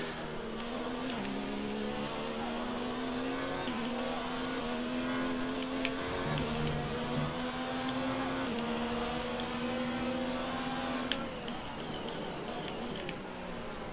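High-pitched whine of Formula 1 race car engines in the video game F1 2019, climbing and dropping through gear changes at the Spanish track, steady and continuous with several cars close together.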